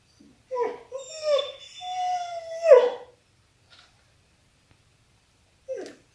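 A pet dog at home yawns with a long, drawn-out whining howl, pitch rising and then dropping, followed by a short second whimper after a pause of near silence.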